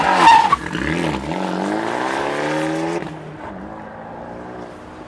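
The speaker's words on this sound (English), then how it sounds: "Fiat was kind enough to set up an autocross course for us here to take the Abarth around to see just how it handles." A Fiat 124 Abarth is driven hard around an autocross course, its engine revving and rising in pitch before dropping off, tires squealing as it corners, heard alone and fairly close.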